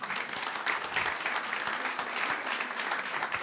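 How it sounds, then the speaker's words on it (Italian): Audience applause at a library event, a steady wash of many hands clapping at moderate level without a break throughout. "Vuoi sentire come applaudono la tua direzione?"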